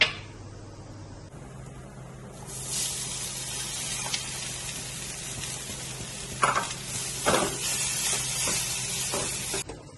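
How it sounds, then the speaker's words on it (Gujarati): Cumin and sesame seeds crackle and sizzle in hot oil, a steady frying hiss that swells loud after the seeds go in, with sharp spits and a few stirring scrapes near the end. "તેલ ગરમ થઈ ગયું છે, એમાં આપણે જીરું નાખીશું,"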